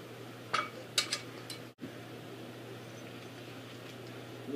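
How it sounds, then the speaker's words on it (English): A frying pan handled in a quiet kitchen, with a few light metallic clinks and knocks in the first couple of seconds over a faint steady hum, followed by a short thud and then near-silence. "That was the frying pan."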